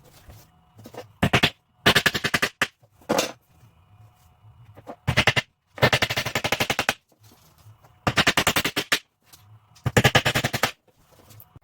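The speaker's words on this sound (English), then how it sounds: "then we can go ahead and shoot some nails into those right there" Nail gun firing rapid bursts of nails into scrap pallet boards, several loud clattering volleys of sharp repeated shots separated by short pauses, with quiet background noise between bursts.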